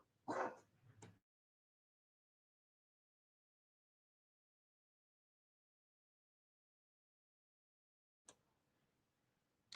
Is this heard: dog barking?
yes